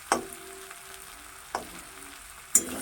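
Onions frying in a pan for a Bengali onion-stalk chorchori, with a quiet steady sizzle broken by three sharp stirring clinks spaced about a second apart.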